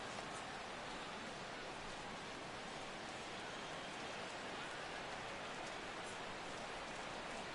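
Steady rain falling over a ballpark in MLB The Show 16, a constant hiss of drops at an even level from start to finish, with no talk.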